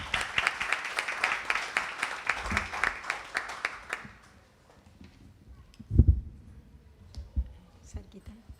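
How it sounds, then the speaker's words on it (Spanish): An audience at a literary talk applauds a speaker in a brief burst of clapping that stops abruptly after about four seconds, followed by faint room noise, a bump and scattered small sounds. "Este es tu aplauso"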